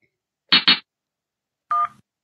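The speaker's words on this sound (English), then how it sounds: "Cell phone." Cell phone dialing tones in a Henry Stickman prison-escape video game: two quick loud key beeps close together, a pause, then a single longer tone, clean against silence.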